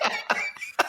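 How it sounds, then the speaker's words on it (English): A short, close, raspy cough from a Star Wars character, with two or three throaty bursts in under a second and no other sounds. "His one Mucinex cough."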